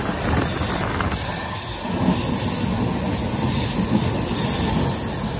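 A train rolls steadily along the rails in the monsoon season near Nashik, with a continuous rumble and high metallic wheel squeal, loud and close, with no talking.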